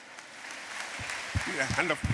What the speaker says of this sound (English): Hand clapping, yes